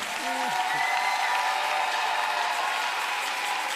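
Congregation applauding in a church service, a dense, even wash of clapping sustained throughout, with a few faint tonal sounds in the room early on.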